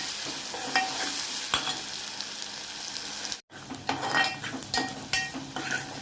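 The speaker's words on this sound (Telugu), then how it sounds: "ఉల్లిపాయలు కలర్ వచ్చేదాకా వేసుకోవాలి" Onions stirred and frying in a pan for a mushroom curry, a steady sizzle broken by spoon scrapes and a brief dropout midway, close and fairly quiet with no talk.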